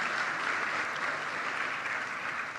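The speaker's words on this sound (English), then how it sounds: "A round of applause for the Honorable Senior Minister." Steady applause from a conference audience for a senior government minister at an opening ceremony, a dense even patter of many hands held at constant level throughout.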